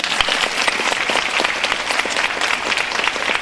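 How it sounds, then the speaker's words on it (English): An audience at a diplomatic forum at a university campus bursts into sustained, lively clapping, dense and close throughout. "Let's give them a big applause"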